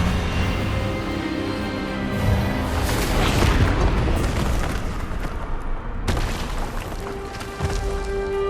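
The Expelliarmus spell in Hogwarts Legacy bursts out as a loud, booming blast with a rushing, roaring wash of noise that swells, cuts off sharply and resumes with a lingering rumble.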